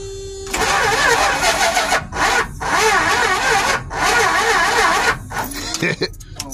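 A truck engine cranks and sputters in repeated bursts on jumper cables, loud and close, with brief pauses between attempts and a voice speaking at the end.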